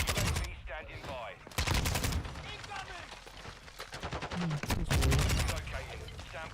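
Automatic rifle fire from an AK-74U in a first-person shooter, sharp bursts of shots at the start and again midway, loud and close, with a voice talking through parts of it.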